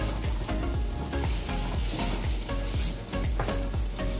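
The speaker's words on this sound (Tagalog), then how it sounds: "At saka itong ipapry lang natin itong patatas." Potatoes sizzle loudly in a frying pan, a constant crackling hiss broken by repeated scraping strokes of a utensil stirring them, close and busy with no voices.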